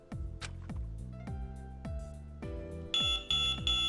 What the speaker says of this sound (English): Suddenly, the electronic beeping started again.